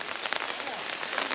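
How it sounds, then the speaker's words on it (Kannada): Rain falls steadily outdoors on a wet surface, a soft, even patter with faint droplet taps throughout the short stretch and no clear voices. "ಮಳೆ ಬರ್ತಾ ಇದೆ."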